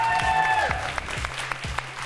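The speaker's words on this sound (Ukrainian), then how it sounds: "ваші оплески." Studio audience applause on a TV show, a short, moderately loud burst of clapping heard under music and voices.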